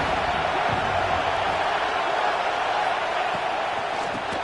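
A football stadium crowd roars in a steady, loud, broadband wash of cheering that holds without a break from start to finish.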